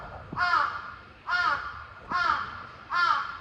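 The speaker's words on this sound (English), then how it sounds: "that has one serious crow" A large crow caws four times in a slow, evenly spaced series, each call loud, harsh and fairly close, with nothing else heard.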